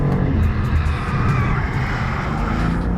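A BMW M2 engine revving hard under acceleration, a loud sustained roar with aggressive gear shifts, heard alone without voices.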